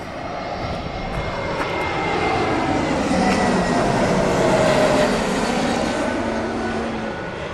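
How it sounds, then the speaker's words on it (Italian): An Italis Airbus A320neo airliner lands at Rome Fiumicino, its engines producing a broad, steady roar that swells through the middle and holds loud to the end, with no voices. "L'aereo Italis a 320 neo"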